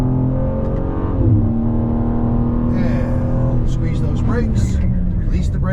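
A BMW M2 G87 is on a race track as it slows under braking: a steady engine drone drops in pitch, with squeals and tyre noise near the end. A person talks over most of it.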